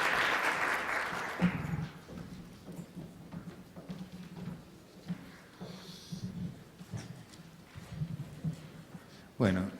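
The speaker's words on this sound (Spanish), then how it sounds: "Un aplauso, por favor." Audience applause at an academic conference on biochemistry and theology, a burst of clapping in the first second or so that fades quickly, followed by a voice speaking.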